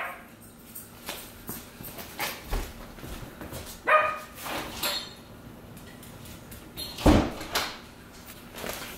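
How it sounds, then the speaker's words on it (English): An Aussiedoodle puppy barks at a house's back door, a few sharp, separated barks, the loudest near the middle and end, over quiet indoor background with occasional thumps. "That was Robin barking at the back door."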